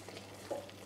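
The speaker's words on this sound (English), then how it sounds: "Just trying to mix the soy sauce that I added in." Soy sauce is stirred into a mushroom sauce in a pan, a brief soft scraping stir over a low, steady sizzle.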